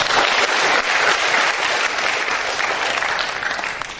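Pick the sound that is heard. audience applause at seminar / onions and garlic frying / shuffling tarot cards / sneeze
audience applause at seminar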